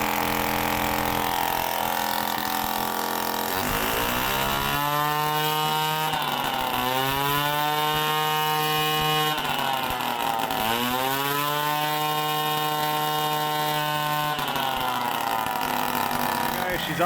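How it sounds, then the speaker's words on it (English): A 1979 Suzuki JR50 minibike's small two-stroke engine idles high and buzzes loudly nearby, with its pitch rising and falling through a few revs. "She's idling high, but listen to this."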